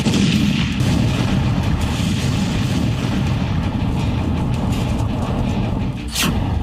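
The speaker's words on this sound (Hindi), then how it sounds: "एयर बेस के अंदर धमाका हुआ, ये देखो अभी" An explosion at an air base produces a loud, sustained rumbling blast roar that persists for several seconds, with no talking.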